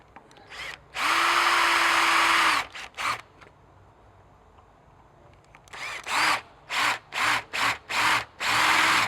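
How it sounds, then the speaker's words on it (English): Power drill boring a hole through the centre of a plasma winch rope tag, a long whining burst followed by a series of short repeated drill pulses, loud and close. "now we drill a hole through the centre of the tag"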